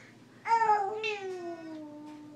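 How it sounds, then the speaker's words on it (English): A pet cat whose tail was stepped on lets out a loud, drawn-out meow that bends downward and fades, heard alone and close with no talking. "we accidentally stepped on the kitty's tail"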